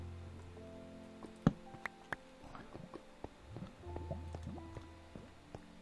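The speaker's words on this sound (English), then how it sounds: "I just heard lava bubbling." Lava bubbling in Minecraft gives soft, scattered pops and gloopy drips at an irregular pace, fairly faint, over a low sustained hum with occasional sharper clicks.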